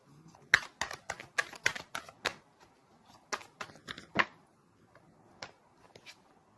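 Tarot cards being shuffled and flipped, heard as a run of sharp, close papery snaps and flicks in uneven bursts with short pauses between them and no talking.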